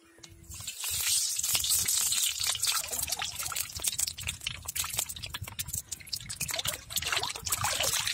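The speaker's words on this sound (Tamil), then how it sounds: "வடை சட்டி சூடாயிடுச்சு இப்போ வந்து எண்ணெய் ஊற்றிக்கலாம்" Oil goes into a hot vada frying pan while making laddu, giving a continuous close sizzling and crackling hiss with fine dripping textures, steady throughout with no talk.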